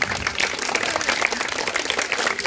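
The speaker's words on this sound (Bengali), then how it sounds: "তার জন্য একটি করতালি দিই" Audience applause at a youth club's tug-of-war final and prize-giving ceremony, steady dense clapping from many hands throughout, fairly close and even, with no pauses.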